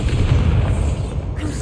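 Bombarda blasting spell going off in the video game Hogwarts Legacy, a loud, deep, sustained boom rumbling close up, with a spoken voice faintly present.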